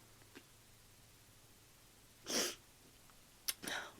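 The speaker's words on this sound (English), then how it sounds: "oh, I'm gonna sneeze." A single close, sharp sneeze in a quiet room, followed moments later by a quick breath and a second short burst.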